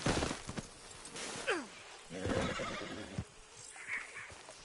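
A horse whinnies loudly in Red Dead Redemption 2, its call rising and falling, amid game sound effects and a few hoof clops, followed by a softer snort.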